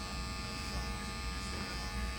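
An electric foil shaver cutting hair at a barber's, a steady close motor buzz running continuously throughout without a break.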